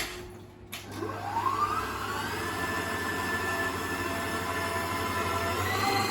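An electric mixer whirs steadily while whisking four egg whites in a mixing bowl, a continuous close motor hum with a rising whine after a brief start-up clatter.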